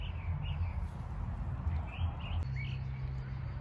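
Small birds chirp in short, scattered calls across a garden, fairly faint over a steady low rumble of nearby traffic, with a few brighter tweets standing out.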